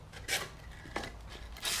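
A small handheld sander or sandpaper rubs over wooden boards in short rasping strokes, close and alone, with brief louder bursts between softer scraping.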